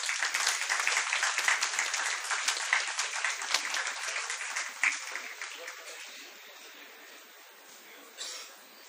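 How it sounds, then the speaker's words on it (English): A school audience at an awards ceremony for Class X achievers claps for a student, a bright, crowded patter that gradually thins and fades, followed by a brief late flurry. "Round of applause, everyone."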